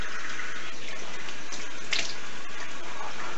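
Steady running water from a tap while a face is rinsed after a shave, a close, continuous splashing flow with no talk.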